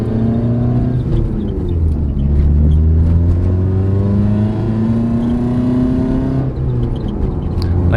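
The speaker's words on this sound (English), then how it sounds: "I actually love the way this car sounds right now." An older manual BMW E30 fitted with a Valvetronic muffler revs steadily, its deep exhaust note rising and falling in continuous loud waves close by, with no talking.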